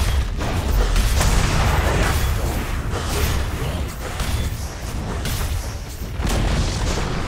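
The Dire middle tower crumbles in Dota 2, a run of deep booms and grinding rumbles rolling on for several seconds at steady, moderate loudness with no speech.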